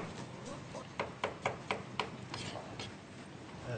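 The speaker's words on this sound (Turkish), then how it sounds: "Şöyle doğramaya devam ediyoruz." A knife chops food on a board in a quick, steady run of sharp taps, close up, then stops.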